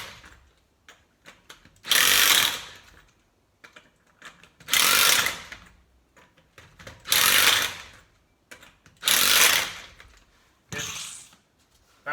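An impact wrench on a car wheel fires in five short, loud bursts of rattling hammering, each about a second long, with quieter clinking of lug nuts and handling between them.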